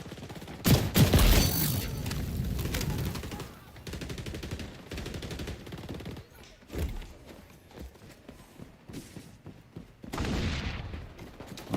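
Marksman rifle fire in the XDefiant video game on the Rockefeller map, with sharp repeated shots and bursts over busy match noise and other gunfire.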